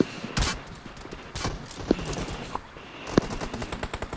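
Gunfire in an online multiplayer shooter game: sharp close shots and rapid bursts spread across a few seconds over a steady game backdrop, with a louder crack near the middle and another toward the end.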